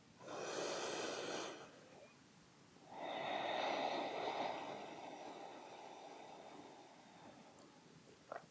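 Two long, audible breaths, each a slow airy rush through the nose, taken while holding a heart-opening yoga pose with the chest sinking toward the floor. A softer, quieter exhale trails off afterward in a calm room.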